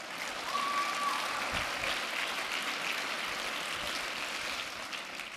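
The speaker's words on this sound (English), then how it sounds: "Give her a round of applause." A crowd claps steadily throughout, a dense sustained patter of applause with no talking over it.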